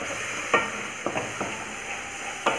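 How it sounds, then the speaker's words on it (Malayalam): Rose apple pickle with vinegar simmering in a pan over a low flame: a steady, soft bubbling hiss broken by a few brief clinks of stirring. "ഇനി ഇത് നന്നായിട്ടൊന്ന് തിളക്കട്ടെ."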